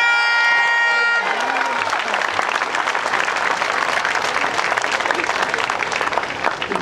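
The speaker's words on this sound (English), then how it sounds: "Give ourselves a big hand." A huge crowd at an evening political rally in Bandar Utama breaks into loud, sustained applause and clapping that rises after a brief voice and holds dense and strong throughout.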